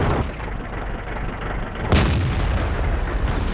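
Tank cannon fire in the World of Tanks video game: two heavy, sharp booms about a second and a half apart, over a constant low rumbling background.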